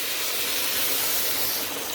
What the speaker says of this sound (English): now we're gonna deglaze with a bottle of clam juice